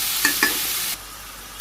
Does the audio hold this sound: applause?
no